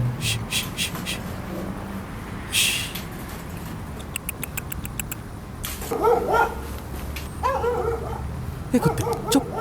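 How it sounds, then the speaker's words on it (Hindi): A dog barks and yips in short repeated bursts at close range, with whimpering between barks and some background noise. "ए कुत्ते, चुप चुप चुप हो जा, जा भाग भाग यहाँ से, चिल्ला मत"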